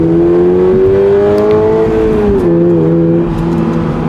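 A light rear-wheel-drive sports car with a 2.4 liter flat-four engine, co-developed by Subaru and Toyota, with a 6-speed manual and 230 horsepower, accelerates loudly and close, its steady engine drone rising and then easing back.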